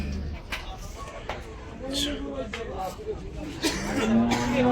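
Cows low at the crowded Gabtoli cattle market during Eid, with a drawn-out moo near the end amid nearby chatter and people talking.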